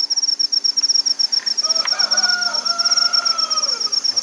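A rooster crows once in the distance, a drawn-out call over a constant high pulsing drone of night insects.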